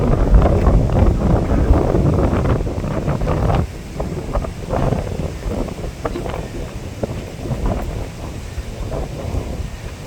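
A strong storm wind blows along the Mathagal seashore near Jaffna, producing loud, gusting roars that buffet the microphone. The wind eases slightly after a few seconds but stays continuous.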